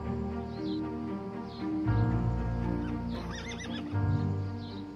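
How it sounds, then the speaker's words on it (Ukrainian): Horses neigh and whinny repeatedly, close and loud, over a low steady rumble, with faint birdsong in the background. "Конюх Валерій зібрав по навколишніх селищах коней, яким вдалося вижити"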